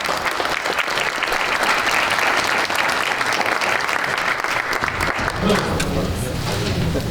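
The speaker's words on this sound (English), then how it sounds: "I just wanted to give a big round of applause to our panelists" An audience at a forum gives sustained, dense applause to a panel, a loud, even roar of many hands clapping that carries on for several seconds with some voices underneath toward the end.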